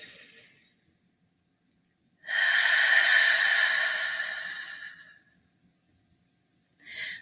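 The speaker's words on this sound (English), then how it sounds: "So we breathe in again." A deep breath drawn during morning prayers, a soft rush of air rising and swelling for about three seconds before fading out, then a brief start of another breath, with no voices.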